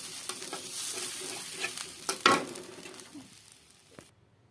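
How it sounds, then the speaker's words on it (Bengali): Spices fry and are stirred in a pan for fish bhuna, a close sizzle with repeated spatula scrapes and one louder scrape midway, fading out and ending abruptly in silence. "মশলাগুলো কষাতে হবে।"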